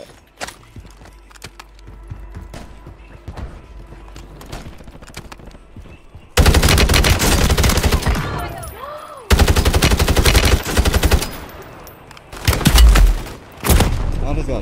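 Gunfire in the shooter game Warzone bursts in loud, dense volleys from about six seconds on, with rapid repeated shots, a brief pause near nine seconds, then more heavy firing and booms, after a quieter stretch of footsteps and faint game ambience.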